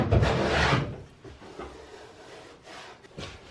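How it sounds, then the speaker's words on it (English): Wooden boat garboards being hand planed, with a long rasping stroke at the start followed by quieter, shorter scraping passes, close by and with no talking. "The garboards had to be planed at some point to be in line and level"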